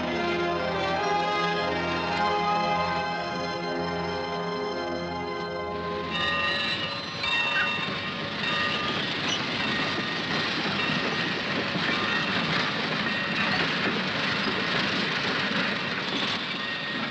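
Train starting off and rolling in a 1951 Western, a steady loud rumble with tonal engine hum that shifts into broadband rattling and clatter as it moves, continuous throughout with no talk.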